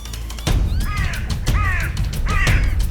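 A crow in the Welsh spring countryside gives three loud, harsh caws at a steady pace, close by over a low background rumble.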